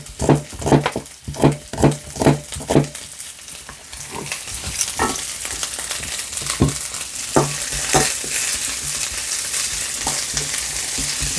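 Sliced onion sizzles in a hot pan while being stirred for a spicy Korean stir-fried octopus dish, with rhythmic scraping stirs at first, then a steady close crackling fry.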